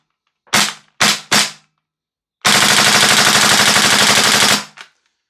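A KWA F90 polymer airsoft gas blowback rifle fires three sharp single shots, then a rapid full-auto burst of about two seconds, loud and close with no talk.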